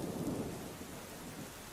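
Steady, dense rain falls with a low rumble of thunder underneath, a continuous wash of noise that holds at an even level without any voices.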